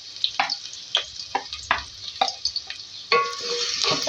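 Onions fry in hot mustard oil in a pan for aloo bhindi, a steady close sizzle broken by a regular series of sharp scraping stirs, with no voices.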